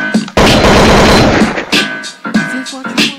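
A gunshot sound effect in a UK rap freestyle track: a long, loud, dense burst of rapid fire, followed by several shorter punchy shots over the beat.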